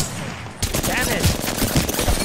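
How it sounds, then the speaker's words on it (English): Enemy gunfire in the video game Apex Legends, a rapid run of close, loud shots following a quieter start, with voices talking over it. "The enemies are shooting at me."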